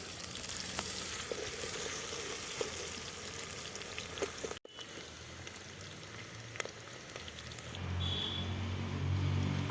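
Sliced onion fries lightly in a pan while preparing quince with tomato, giving a soft, steady sizzle with a few faint clicks; the frying swells louder near the end.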